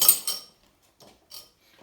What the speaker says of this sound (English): And I'm going to give this a mix.